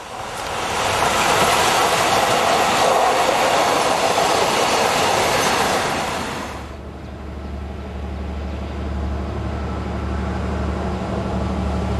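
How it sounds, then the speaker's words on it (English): A diesel rail car on the Tapolca to Balatonfüred service rumbles loudly past, its broadband roar fading after about six seconds into a steady low engine drone that lingers alone. "Not all services are local hauled, some are operated by diesel rail cars. This is the 1155 Tapolca to Balatonfüred."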